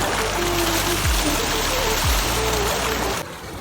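Water from a tubewell pours steadily in a loud, continuous rushing stream, close up, as people bathe under it, with faint murmurs of voices mixed into the flow.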